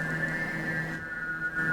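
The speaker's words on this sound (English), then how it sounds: "I like this whistling sound." A steady, thin whistling tone drifts through a cavern in a video game, a faint constant hiss with a low hum beneath, holding evenly for under two seconds with no voices.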